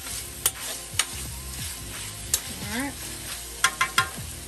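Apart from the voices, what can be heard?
home fries stirred and frying in a pan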